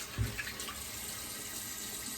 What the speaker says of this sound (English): So we'll dump out the water